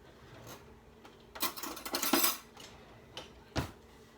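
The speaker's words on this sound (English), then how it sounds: "So I'm just going to open this up" Lid of a Better Than Bouillon chicken base jar twisted and pulled open, a burst of close plastic-and-glass rattling in the middle framed by a few isolated clicks and taps, with no one speaking.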